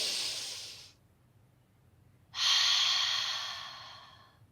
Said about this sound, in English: Now we close our eyes and take a big, deep breath